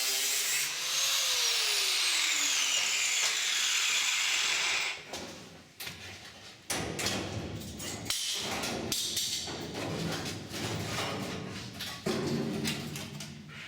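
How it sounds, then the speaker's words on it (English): An angle grinder cuts away the rusty rear valance and panel of an old Austin Mini. A steady high whine drops in pitch, then gives way to rough, uneven grinding and thumps on the rotten steel. "It must be time to cut these bits off now, surely. Yay, it's grinder time!"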